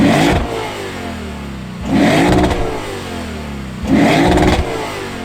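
A 2023 Lexus IS500 V8 revs hard in three separate bursts, each a loud rising rumble that drops back to a lower idle between pulls, close and with no voices.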